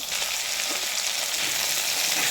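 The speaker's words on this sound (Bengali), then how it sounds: "আলুটা একটু ভাজা হয়ে যাওয়ার পরে উচ্ছেটা দিলাম দিয়ে সামান্য একটু ভেজে নেব" Potato and bitter gourd pieces fry in hot oil, producing a dense, steady, fairly loud sizzle with light stirring, no talking.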